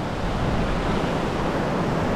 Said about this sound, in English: right next to this uh, water stream fresh water